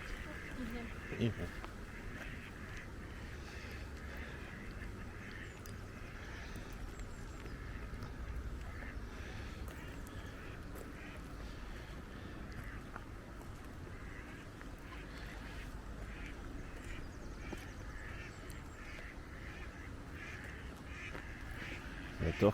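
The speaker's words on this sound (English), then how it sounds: "These ducks are having a field day." Ducks quack intermittently on water at The Pandy in Flint, North Wales, faint and somewhat distant over a low steady background, with occasional brief calls spread through the stretch.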